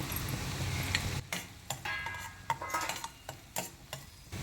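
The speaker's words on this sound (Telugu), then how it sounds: "ఇది పువ్వు, జాపత్రి. ఇవన్నీ వేసేసుకొని మనం ఒకసారి వేయించుకుందాం." Whole spices including mace, star anise and shahi jeera are fried in a pan, with a soft sizzle under repeated clinks and scrapes of a spoon against the metal, close and quiet.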